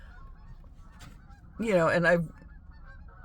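A large flock of geese honks in one loud burst of overlapping calls lasting about half a second, with a voice speaking briefly before it.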